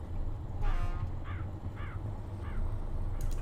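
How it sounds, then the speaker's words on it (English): Crows cawing in a few short, harsh calls over a low rumbling engine hum in the MudRunner off-road truck game, the birds scattering after a horn honk. "There's a crow squawking sound, like you're scaring them away"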